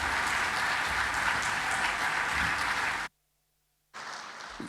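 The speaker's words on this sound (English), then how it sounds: "could we be upstanding and a round of applause, please?" An audience applauds at a bank's 50th anniversary celebration, dense steady clapping for about three seconds, then a short cut to silence before the clapping resumes.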